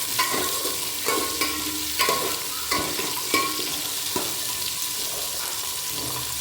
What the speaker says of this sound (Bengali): এইসব রান্নার ক্ষেত্রে সবসময় হাই ফ্লেমে ভাজতে হয়